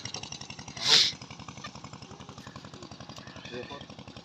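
Small motor of a pesticide sprayer in a farm field running with a rapid chugging pulse, steady and fairly close, with a brief loud hiss burst near the start and voices over it.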